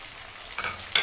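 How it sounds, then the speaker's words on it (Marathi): A spoon stirs cooked rice into melted jaggery in a pan for a gulbhat sweet, giving a soft, brief scraping and faint sizzle, a few louder strokes near the end, with no talking. "आता आपण त्यामध्ये आपला हा भात घेतलेला आहे तो मिक्स करून घेणार आहोत"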